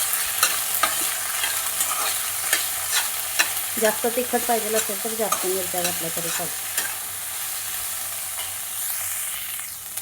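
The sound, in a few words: peas and chillies roasting in a pan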